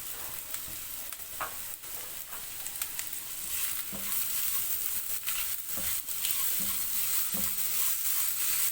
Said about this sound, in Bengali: মশলাটা হালকা ভাজা ভাজা হতে হতে